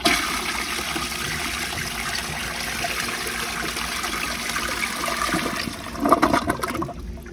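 An American Standard Cadet space saver toilet flushes during a bowl rinse test, a loud continuous rush of water that holds steady, then breaks into gurgles and trickles as the bowl refills, heard close with no talk.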